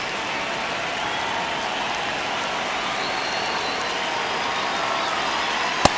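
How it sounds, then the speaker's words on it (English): A stadium crowd murmurs at Dodger Stadium in the baseball video game MLB The Show 26 as fans settle in at the start of a game. The wash of crowd noise is steady and even, with one sharp click near the end. "crowd getting settled here at Dodger Stadium."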